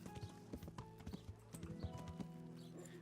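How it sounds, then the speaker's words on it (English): Hooves clip-clop in a steady, uneven trot, close and fairly loud, with a faint whinny and a background hum in Kingdom Come: Deliverance. "Wonder where that horse came from."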